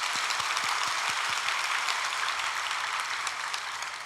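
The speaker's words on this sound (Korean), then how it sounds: "찬양대를 위해서도 격려하는 박수 해주시겠습니다" A church congregation at an early-morning special prayer service claps for the choir, steady crowd applause filling the room at moderate distance, continuous and even before slowly thinning at the end.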